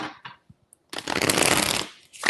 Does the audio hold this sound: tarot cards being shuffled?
yes